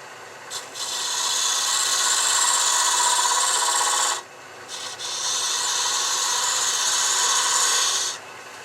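Fingernail gouge taking light slices on a spinning workpiece on a wood lathe, two sustained hissing cuts of about four seconds each with a short pause between, close and fairly loud.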